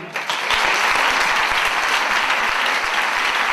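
An audience at a La Manif Pour Tous meeting in Bordeaux breaks into dense, steady applause, a sustained wash of many hands clapping without speech over it.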